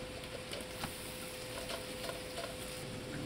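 Green chilies and diced onion fry in a pan, a steady close sizzle with occasional stirring scrapes and light clicks, no talking.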